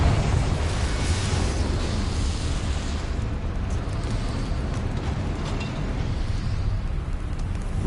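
A Confringo fire spell blast in Hogwarts Legacy, heard as a loud, sustained explosive roar and rumble that holds steady for several seconds with no talking.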